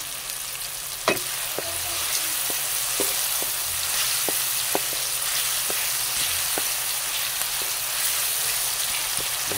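Carp and other ingredients frying in a pan for sinigang sa miso, a steady close sizzle broken by sharp crackling pops and spatters, with no talking.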